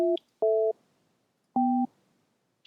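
Telephone keypad dialing tones for a phone number come as three short, loud, close beeps, each a steady pitch pair, spaced unevenly, with a faint click at the end.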